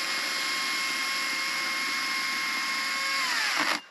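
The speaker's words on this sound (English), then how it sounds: "And all boys like the power tool." A power tool runs steadily at a campsite while firewood for the campfire is cut, a loud, even whine with sustained tones that holds for several seconds, then drops in pitch and cuts off abruptly near the end.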